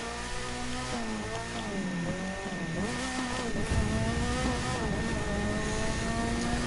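A rotary-engined car in the video game The Crew 2 accelerates hard, its buzzing engine note rising through several gears with shifts and dips, loud and continuous with no talk.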